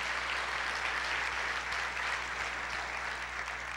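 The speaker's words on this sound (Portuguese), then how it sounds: "Pode aplaudir ao Senhor por isso?" A church congregation applauding during a sermon, dense steady clapping from many hands filling the room at an even level throughout, with a low hum beneath.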